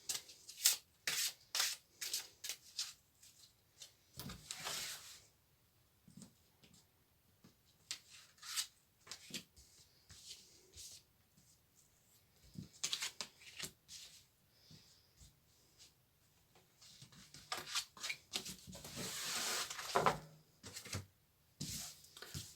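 Soft, close rustling, rubbing and flicking of tarot cards being shuffled and drawn, in irregular bursts with quiet gaps and no talk.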